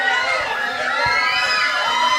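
Crowd at a high school football game in Killeen, Texas cheers loudly, a sustained roar of many high voices with excited shouts rising over distant thumps.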